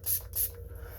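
A makeup setting spray is spritzed onto blue duochrome eyeshadow, giving two quick close hissing pumps in a row, with no talking.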